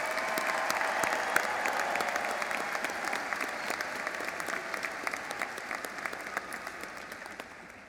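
A large audience applauds 2017 graduates at a Washington State University spring commencement, dense sustained clapping filling a big hall that gradually thins and fades toward the end.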